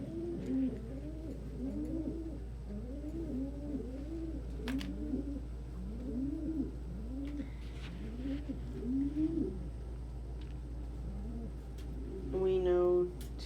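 Pigeons of fancy breeds coo steadily in a loft, a run of soft rolling, repeated coos close by over a low constant hum, with a brief sharper call near the end.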